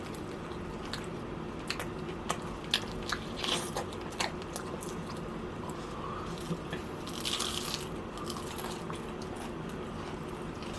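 Crunchy fried chicken skin from a Suwon chicken street shop crackles between the teeth in a long run of quiet bites, crisp snaps and moist chewing, heard close against a steady background hum without talking.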